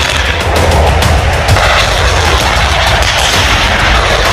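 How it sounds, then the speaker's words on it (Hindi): Advanced tanks fire several rounds during a large military exercise, a dense, loud barrage of heavy booms and blasts overlapping continuously with rumbling reverberation throughout. "एडवांस टैंकों से 1 मिनट में कई राउंड फायरिंग हुई।"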